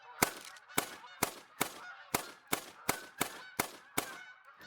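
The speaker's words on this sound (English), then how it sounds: "we got some geese" Geese in the hunting game theHunter: Call of the Wild on the Revontuli Coast honk repeatedly, about ten loud, evenly spaced calls in a steady rhythm.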